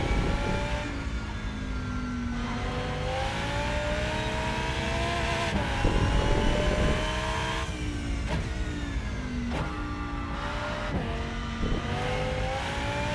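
An Audi race car screams around the track in Rennsport, the engine revving hard through repeated upshifts and rising pitch sweeps, close and loud throughout with no talk.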